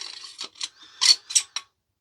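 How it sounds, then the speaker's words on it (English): A shroud slides off the barrel of a Daystate Air Ranger air rifle with a few light metallic scrapes and clicks, close and quiet, followed by silence. "With both grub screws loose, we can slide the shroud off of the barrel"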